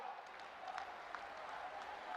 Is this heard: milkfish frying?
no